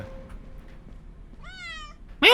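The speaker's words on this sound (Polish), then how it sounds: "Jest kot, to jest anomalia." A single clear cat meow in the video game School 666, close and distinct over a quiet background, followed by a sudden loud burst of noise at the end.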